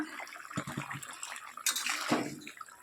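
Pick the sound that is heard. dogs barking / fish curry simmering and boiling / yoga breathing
fish curry simmering and boiling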